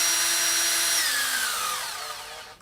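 Brushed Makita impact driver made in Japan, 18-volt class, whirring at high speed on a variable trigger and then winding down with a falling whine, loud and close, no talking.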